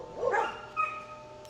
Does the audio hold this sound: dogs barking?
yes